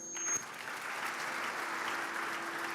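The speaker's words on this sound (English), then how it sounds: "Clap for yourself." Gentlemen filling a hall at an evening dialogue series clap for themselves, a uniform wash of many hands heard at a moderate distance, steady and unbroken, with a faint tonal hum running underneath.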